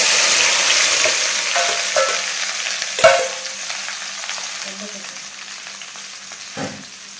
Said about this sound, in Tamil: எண்ணெய் நல்லா ஹீட் ஆகிடுச்சு. இதில் வெண்டைக்காய் ஃப்ரை சேர்த்துக்கலாம்.